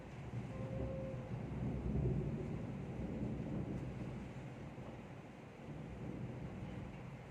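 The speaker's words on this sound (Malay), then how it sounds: "hujan lebat, kilat," Heavy rain with thunder, a dense continuous roar of rainfall with low rolling rumbles swelling and fading throughout.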